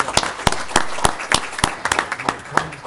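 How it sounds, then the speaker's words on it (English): Clapping for students at a city council meeting in Eastpointe, Michigan, heard as sharp, fairly evenly spaced claps that sound like only a few people, close and distinct. "Let's give them a round of applause."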